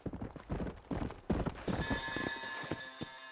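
Horse hooves clip-clop in Red Dead Redemption, an uneven series of close, sharp hoof strikes. The strikes slow and thin out toward the end under a faint ambient hum.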